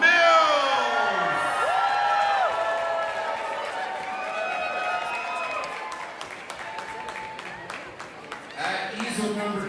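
An audience at a live art event in Toronto applauds and cheers for an intuitive painter, a sustained wash of clapping with whoops that thins out and then rises again near the end, while voices carry over it.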